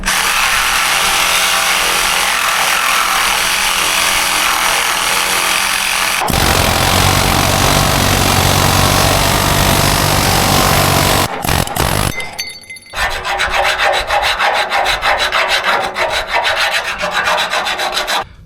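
Power tool cutting through an old worn leaf spring bushing on a 23-year-old plant trailer, a loud continuous grinding rasp with a sharp shift in pitch midway and a brief interruption before resuming, close up and without talk.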